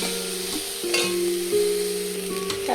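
Radish frying in hot oil with five-spice in a wok, a close, steady sizzle with stirring scrapes and faint clinks over about three seconds, no voices.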